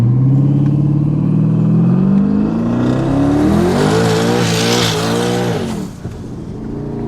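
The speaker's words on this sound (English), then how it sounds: "We're gonna do like a rolling burnout." A 1000hp twin turbo Camaro ZL1 on drag tires makes a rolling burnout: loud, close engine revving climbs steadily in pitch with harsh rasping exhaust, then the throttle drops off near the end.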